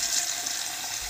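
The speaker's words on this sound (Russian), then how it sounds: "Открываем кран." Cold water runs from a freshly opened kitchen tap in a steady, close hissing stream that fills the short moment alone.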